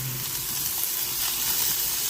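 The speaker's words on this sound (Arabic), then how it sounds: "هلا بعد ما قلينا الفطر مع البصلة" Finely chopped mushrooms and onion frying in a pan, giving a steady, even sizzle and hiss throughout, close by with no voices.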